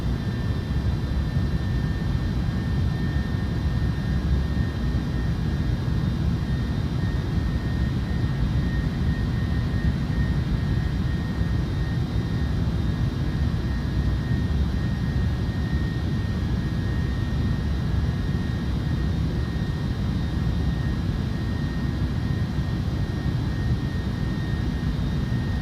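An airplane engine in Microsoft Flight Simulator 2024 throttles up to a loud, steady droning roar with a faint whine that holds for about half a minute without pause, and no one talks.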